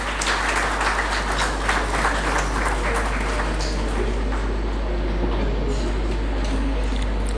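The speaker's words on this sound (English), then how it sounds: "please a big round of applause." An audience applauds at a college alumni reunion as a hospital doctor is introduced, a loud, sustained crowd clapping with a constant low hum underneath, lasting the whole stretch.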